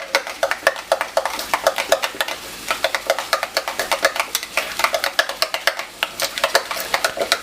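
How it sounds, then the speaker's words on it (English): Food is stirred in a pan for a personal lasagna dish with salt just added, giving steady, rhythmic scraping strokes close up over a low sizzle, with no one talking. "we're gonna stir this up"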